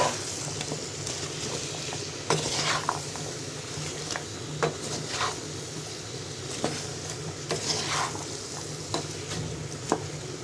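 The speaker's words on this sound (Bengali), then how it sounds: "এবার সব মশলার সাথে সবজিগুলোকে নেড়ে মিশিয়ে নিব" Cut potato, cauliflower and beans are stirred with spices in a kadai. A soft frying hiss runs underneath, broken by scattered scraping and clacking spoon strokes against the pan. No voices are heard.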